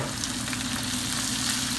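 Saltfish and seasoning fry in oil for ackee and saltfish, a brief burst of loud, dense sizzling with a steady hiss and no voices.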